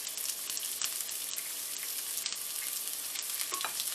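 Onions sweat in olive oil with a little salt over medium heat, a soft continuous sizzle and crackle close by with occasional faint pops, no voices.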